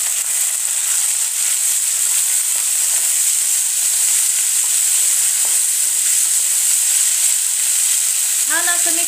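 Onion with ginger garlic paste and spices frying in a pan for masala rice makes a bright, steady sizzle with soft stirring scrapes close up, and a brief voice sounds near the very end.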